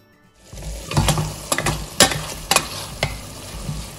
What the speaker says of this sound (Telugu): కట్ చేసి పెట్టుకున్న టమాటో ముక్కలు, ఫైన్ చాప్ చేసుకున్న పుదీనా వేసుకుని ఫ్రై చేసుకుందాం.